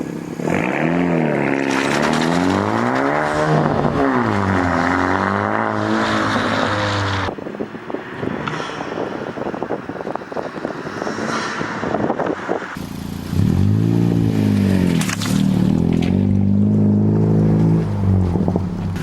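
A loud 2017 Honda Civic Si engine with intake and muffler delete revs repeatedly, rising and falling in pitch with raspy, crackling exhaust between pulls, recorded nearby from outside.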